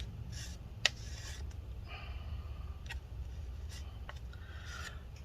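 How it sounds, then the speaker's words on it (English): A tool scraping up epoxy into a pile, giving a few short, quiet rubbing and scraping strokes with one sharp click, heard close over a low steady background hum. "I'm just scraping up the epoxy to get it all in one pile"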